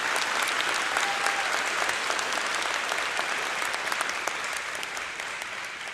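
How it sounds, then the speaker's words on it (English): Steady applause from a large crowd at an undergraduate commencement ceremony, a dense wash of clapping heard from a distance that holds evenly throughout and tapers slightly toward the end. "If that doesn't deserve a round of applause"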